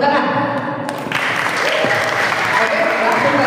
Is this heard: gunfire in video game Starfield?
no